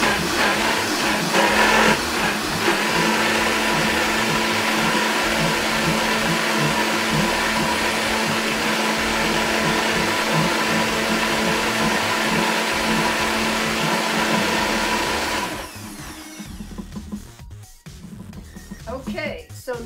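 Raw vegan cracker batter with almond butter is mixed by a loud, steady motor whir that runs continuously and then cuts off near the end, leaving quieter handling sounds.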